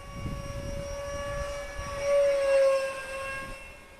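A Freewing F-86 Sabre RC jet with a 64mm electric ducted fan flies in gusty wind, its steady high-pitched fan whine holding throughout and swelling louder midway as it passes closer, with no talking.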